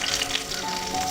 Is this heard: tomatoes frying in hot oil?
yes